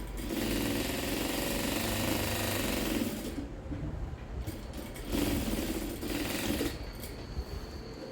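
Sewing machine topstitching folded bias binding on a tube dress, a steady close whirring run for about three seconds, then shorter bursts of stitching separated by brief pauses.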